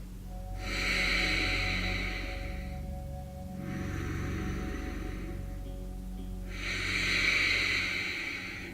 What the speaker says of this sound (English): Let's take 2 more big breaths.